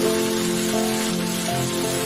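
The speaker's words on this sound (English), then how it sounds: "Hail in Kala, Thuringia," Hail comes down in Kala, Thuringia, Germany, making a constant dense patter like heavy rain on surfaces. A steady wash of impacts runs for about two seconds with a faint tonal hum beneath and no speech.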